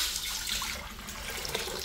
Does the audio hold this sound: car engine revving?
no